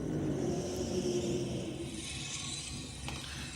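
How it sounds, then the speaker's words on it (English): A car engine on its standard exhaust revs with a throaty rumble, fairly steady and moderately close, with no talking, at Sydney Dragway. "listen to that. That's standard exhaust"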